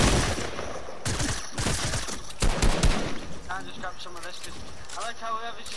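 Fortnite gunfire, several loud bursts of shots early on, then people talking over quieter game sound.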